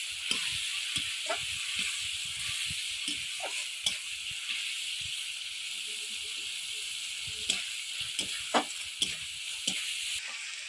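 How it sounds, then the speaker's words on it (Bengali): Spice paste frying with coconut milk in a pan for egg malai curry, a steady bright sizzle and hiss with scattered clicks and scrapes of stirring throughout. "এইভাবে নারকেলের দুধ দিয়ে দিয়ে মশলাটাকে ভালো করে কষিয়ে"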